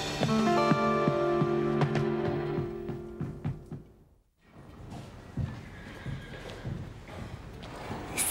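A horse neighs loudly and close by in a stable setting, a long shaky whinny over the first few seconds, followed by brief quiet and then scattered hoof thumps and stall noises.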